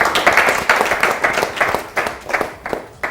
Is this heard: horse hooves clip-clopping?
no